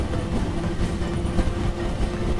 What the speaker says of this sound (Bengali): পাঁশকুড়া জংশন থেকে ট্রেন ছেড়ে দিল